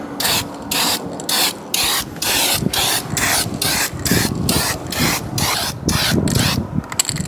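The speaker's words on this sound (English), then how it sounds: "I'm going to use this Rust-Oleum turbo spray system." A Rust-Oleum Turbo Spray System spraying paint onto a cabinet: loud, close hissing bursts in a regular on-off rhythm, with a mechanical rasp under the spray.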